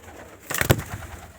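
A pigeon kept in a loft gives a brief, soft coo close by, rising and falling over about half a second against quiet background hiss.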